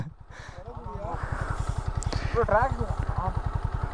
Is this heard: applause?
no